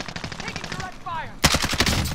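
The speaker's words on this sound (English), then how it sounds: "Taking direct fire." Rapid automatic gunfire from Call of Duty: Warzone gameplay bursts out loud and close in quick repeated shots, with a voice talking faintly underneath just before the shots.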